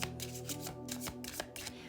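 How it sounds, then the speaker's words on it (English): Playing cards are shuffled by hand nearby, a soft riffling flutter in quick repeated bursts, close and fairly quiet. "While I'm shuffling"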